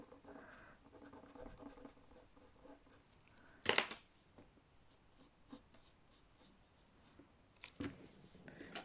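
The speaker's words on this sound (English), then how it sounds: "I'm just looking for a rubber, so I'm going to get rid of this line here" A rubber eraser scrubs out a pencil line on paper in two short, sharp bursts of rubbing, set between quieter scratchy handling noises.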